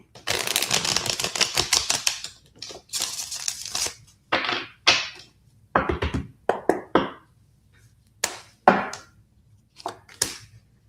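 Tarot cards being shuffled by hand, a series of crisp riffling and slapping bursts in irregular rhythm, close and fairly loud, with short pauses between shuffles.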